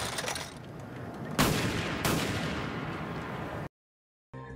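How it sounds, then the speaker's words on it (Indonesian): Gunfire during shooting practice in the TV series Shooter, a few sharp loud shots with ringing tails over a dense background bed, then a moment of silence. "Red Bama Junior terlihat sedang berlatih menembak, namun karena tidak ada bakat tembakannya selalu meleset"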